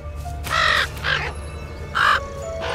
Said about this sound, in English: Or the crow.